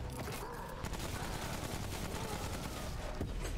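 A rat tail cannon firing in the video game Remnant: From the Ashes, a loud, sustained volley of heavy gunfire with booming blasts rolling continuously across the whole stretch, dense and close.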